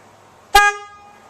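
A replacement car horn on a 2003 Honda Element gives a single short, bright honk that rings out briefly and fades, heard close with no talking.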